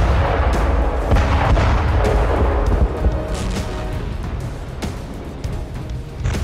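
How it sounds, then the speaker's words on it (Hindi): A naval mine explodes at sea, a loud deep rumbling boom with rolling low-end blasts and cracking bursts that fade to a lower roar. "अब धमाका ब्लैक सी से 1000 मील दूर हुआ"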